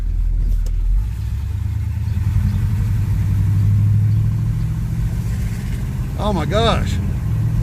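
A Chevrolet Monte Carlo engine runs steadily after a cold start, a deep continuous rumble up close, with people talking over it.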